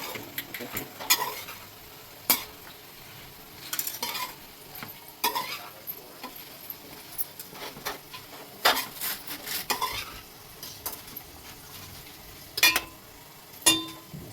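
Onions frying in a pan for gongura prawn curry, with a spatula scraping and clattering against the metal in irregular bursts over a soft continuous sizzle, close and fairly loud.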